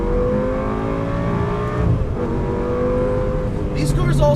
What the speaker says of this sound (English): They have a higher shrieking wail as opposed to the normally sound of the newer Gallardos.